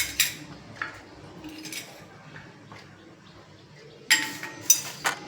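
Uncooked rice poured over coins in a small vessel gives sparse soft clinks and rattles, then a brighter, louder burst of grains near the end, with no talking.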